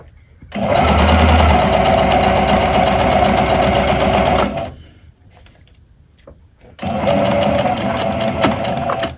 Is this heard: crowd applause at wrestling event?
no